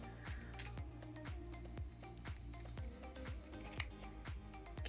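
Scissors snip steadily through the lace of a lace front wig near the ear tabs, a close series of sharp rhythmic cuts, about two per second, with no talking.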